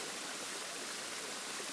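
Water rushing steadily in a waterfall and stream on a riverside trail in the Gorges du Verdon, a faint continuous broadband roar with no voices and no change over the short stretch.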